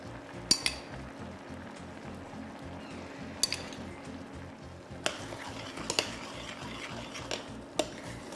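A spoon stirs risotto with a cuttlefish and chard ragout in a pot, giving steady soft scraping with a few sharp clinks against the pan, fairly quiet and without talk.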